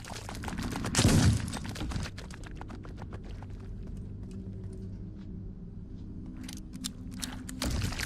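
A shotgun fires once in the video game Crisol as a loud, close blast, followed by quieter mechanical clicks and clatter over steady ambient rumble.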